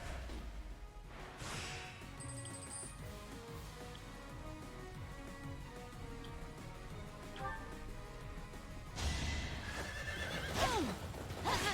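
Horses whinny loudly at the start and end, with clopping hooves and a steady low rumble beneath; game-like effects from Fire Emblem: Three Houses, no talking.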